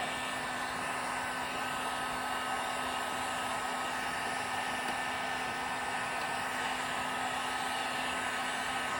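A heat gun blows hot air onto PVC pipe for a gold trommel wash plant build. It makes a steady, even whooshing roar that runs unbroken throughout, close and moderately loud, with no talking.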